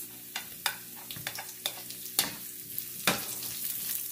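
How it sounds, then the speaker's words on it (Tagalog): Ginger and onion sauté in a hot pan, with a sizzle running underneath a series of sharp, irregular spatula scrapes and knocks, close and fairly loud. "Pagsabayin na natin tsaka ang luya. Isunod ang sibuyas."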